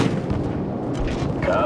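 A heavy explosion in the Call of Duty 4: Modern Warfare PC mission Death From Above, an aerial gunship strike on enemy troops, gives a loud broadband boom with rumbling low-end aftermath that fills the short moment.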